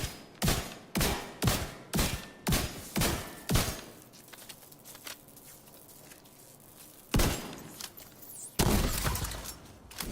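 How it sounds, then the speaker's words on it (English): Scorpio shotgun blasts in The Division 2 go off in a rapid run of about seven loud booming shots, then a pause with faint game ambience, then two more heavy blasts. "let's go ahead and put on the Scorpio shotgun"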